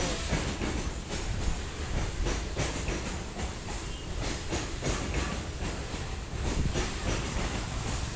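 A train rumbles past close by, with a steady loud roar, hiss and rhythmic clatter of wheels over rail joints throughout.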